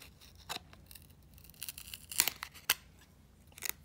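Scissors snip through paper in a few sharp, separate cuts with quiet gaps between them, close by and fairly soft, with no one talking.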